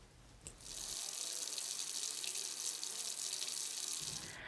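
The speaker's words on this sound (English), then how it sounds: "Don't let the water run down the sink when you're shaving." Water gushes from a bathroom sink faucet, starting abruptly, running as a steady bright hiss for about three seconds, then cutting off, close and alone.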